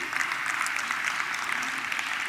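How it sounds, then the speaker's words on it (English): A conference audience claps for a panel co-host walking on stage, a steady wash of many hands at moderate distance, even and unbroken. "let's give him a round of applause to encourage him"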